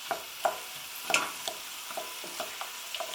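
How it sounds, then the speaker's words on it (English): Vegetables for goulash frying in a pan as they are stirred, soft scraping and clinking strokes over a quiet continuous sizzle, close and fairly faint. "A good stir."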